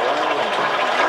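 Water rushes steadily through the drain pipe of a Mountain Top bed cover on a Ford Raptor V6 pickup, a loud, continuous close-up gurgling hiss with no break.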